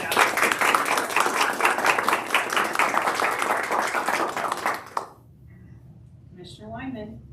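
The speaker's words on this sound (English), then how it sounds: "I would just love to offer a round of applause" A round of applause at a local area commission meeting, roomful of clapping that runs steadily for about five seconds then stops abruptly, followed by someone beginning to speak.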